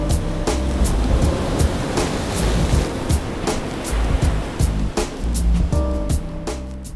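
King tide waves on the Oregon coast roll and crash continuously, a loud, dense surf roar with repeated breaking surges and some wind noise across the whole stretch.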